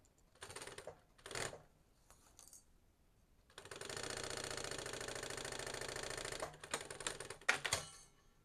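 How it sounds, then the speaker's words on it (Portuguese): A sewing machine stitches a backpack strap, starting and stopping in short bursts with backstitching, then running in one long, fast, rhythmic rattling stretch. It is close and loud, with no voices. "Vamos iniciar fazendo a costura desse ponto de 5 centímetros ao outro, para deixar a alça anatômica."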